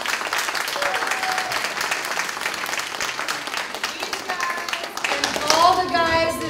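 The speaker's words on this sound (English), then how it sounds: "I think that we all need to give every kid in this place a round of applause right" An audience gives a round of applause for kids at a community arts event, dense sustained clapping filling the room, with a voice rising over it near the end.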